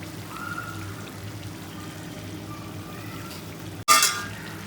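Cooked chicken frying in a pan with garlic chili powder over a medium flame, a steady soft sizzle close by, then a sharp clatter and a louder burst of hissing near the end.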